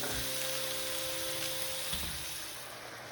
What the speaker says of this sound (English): I'm going to start cooking up a half of an onion, chopped. To that, I add 1 pound of ground beef and a pound of ground pork.